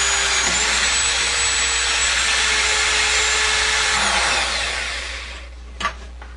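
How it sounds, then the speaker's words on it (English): A power drill bores a 1/8 inch hole into a Whirlpool washing machine frame, running loud and steady for about five seconds before winding down, followed by a couple of brief clunks. "drill a 1/8 of an inch hole next to the old hole"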